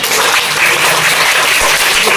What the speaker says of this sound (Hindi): माल्यार्पण में ताली बजाइए जोर से।